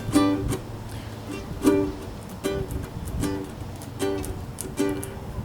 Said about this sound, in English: 2 and 4 beat strum with a swing on it